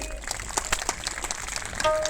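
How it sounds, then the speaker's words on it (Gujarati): Audience applause at a saints' gathering in Gujarat, a dense, steady patter of many hands clapping at moderate distance, sustained through the whole stretch with a faint tone near the end. "પરમ પૂજ્ય પંચીરામ બાપુને તાળીથી વધાવી લેજો."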